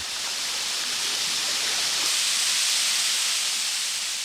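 An icy-cold mountain waterfall in summer pours in a steady, dense roar, continuous and close, with no voices over the rushing water.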